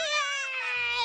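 A kitten gives one drawn-out, high-pitched meow that rises and then falls, close and clear, with faint low background sound toward the end.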